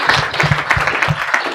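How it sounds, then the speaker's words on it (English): Brief applause for panelists at a book launch event, a short burst of fairly close, uneven clapping from a small audience. "A round of applause for the panelists, please."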